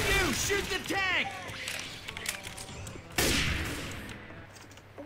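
Shots from a Left 4 Dead 2 firefight ring out under loud, overlapping chatter from players. The first half is crowded with voices, then a sharp burst of gunfire cuts in near the end and fades.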